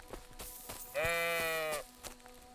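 A sheep in the medieval game Kingdom Come Deliverance II gives one clear, fairly loud bleat lasting under a second, set among soft footsteps and faint ambient thuds.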